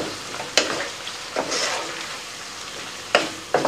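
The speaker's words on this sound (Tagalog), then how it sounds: "Haluin lamang natin." Pork and sweet bell pepper stir fry stirred in a pan with a little added water, a steady close sizzle broken by several sharp scrapes and clatters of the utensil against the pan.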